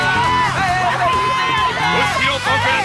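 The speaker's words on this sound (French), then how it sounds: "Et on applaudit un petit cosmonaute et un grand blader." A crowd cheers and shouts in a Beyblade anime arena, excited voices and whoops rising and falling in a busy, loud mix with babble and tonal sounds layered through.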